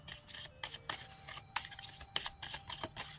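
Oracle cards being handled and shuffled at close range, a quiet run of papery flicks, riffles and soft slaps in irregular bursts, with no talking.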